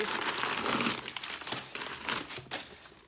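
Stuffing paper crinkles and rustles inside a vintage Coach Shelburne flap handbag with a suede-like lining, in close, loud bursts of crumpling that fade toward the end, with no talking.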